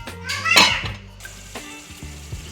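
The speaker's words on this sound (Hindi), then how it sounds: "हम दोबारा इसको ढक्कन दे दें।" A metal lid goes back onto a pot of tinday (round gourd) curry simmering in tomato water, giving a bright clatter and scrape up front, with a softer second clink after it over a low kitchen hum.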